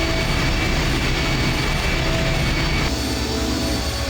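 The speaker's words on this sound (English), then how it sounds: "The engine's starting up again." A heavy mechanical engine drones and rumbles continuously in the dark horror adventure game I Have No Mouth, and I Must Scream, a loud steady roar that shifts slightly in tone partway through.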